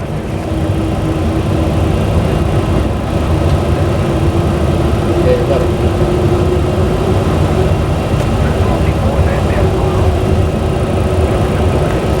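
A VASP airliner taxis to the gate, its jet engines giving a steady, loud, even rumble throughout with no breaks.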